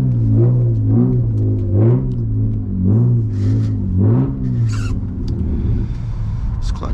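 A BMW E36 328i with a manual gearbox runs just after a cold start on a rainy morning, a loud close engine drone rising and falling in pitch as it revs.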